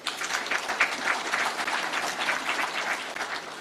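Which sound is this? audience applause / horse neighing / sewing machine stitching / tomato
audience applause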